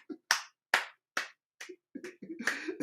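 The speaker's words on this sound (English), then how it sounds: "All right, let us clap, let us clap." A small group of people clapping, a few sharp separate claps that grow into a short patter of applause near the end, fairly quiet and without speech.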